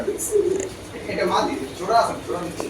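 Pigeons coo low and soft, including a short-tailed female bird, in a pigeon loft among racing and fancy breeds, with repeated murmuring calls under someone talking nearby.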